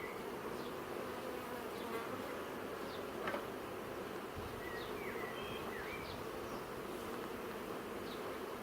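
Honey bees buzz in a dense, steady drone during a spring hive inspection, many insects close by forming a continuous hum with faint bird chirps in the background and no talking.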